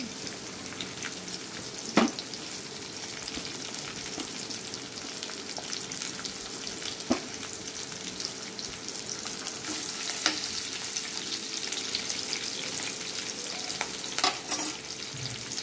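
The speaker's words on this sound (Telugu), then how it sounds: "ఉల్లిపాయలు వేయించాను" Chopped onions and green chillies fry in a pan for a mutton curry, giving a steady, moderate sizzle with occasional sharp clicks and scrapes of stirring throughout.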